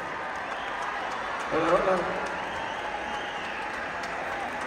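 A concert crowd at the Auditorio Nacional applauds in a sustained, wash-like roar that swells briefly midway, while a voice speaks over it.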